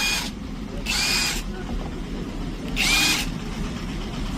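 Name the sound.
INGCO cordless power tool running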